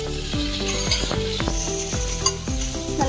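Poha balls coated in a masala mixture are gently stirred in a hot pan, with a steady sizzle and a series of rhythmic scraping strokes of the spoon against the pan, close and clear, with no voices.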